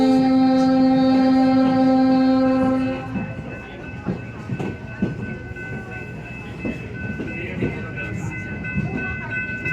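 A train horn blares steadily, then cuts off as the railcars roll past with rhythmic clickety-clack and rumbling, close by and sustained, at Port Stanley.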